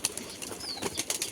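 Pigeons released into the air, a burst of flapping wings in short bright flurries, near and moderately loud with no talking.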